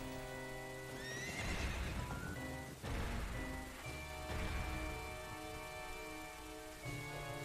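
A horse in The Legend of Zelda: Ocarina of Time video game gives loud whinnies and snorts over clip-clopping hooves and a steady musical background.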